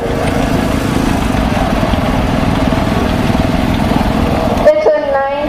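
A 1966 John Deere 110 lawn and garden tractor engine runs loud and close with a steady, even drone. It cuts out abruptly near the end, leaving a brief ringing tone.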